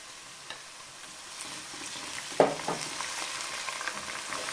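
Ginger garlic paste frying in a pan, a soft continuous sizzle with a sharp clatter of stirring midway, close and steady without talk.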